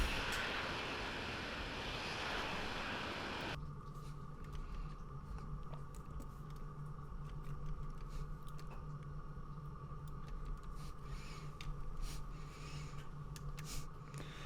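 Jet aircraft taxiing in the Falcon 4.0: Allied Force flight simulator game, a steady low engine drone and whine that drops after a few seconds, then continues evenly with no talk.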